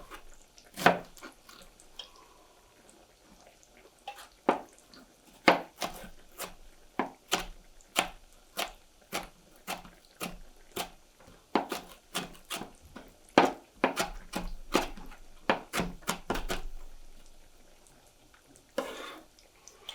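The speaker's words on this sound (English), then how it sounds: "And just a rough chop." A knife roughly chopping cucumber and onion on a board makes sharp, close thuds, arriving in irregular bursts and quick runs with a few short pauses, and no one speaks.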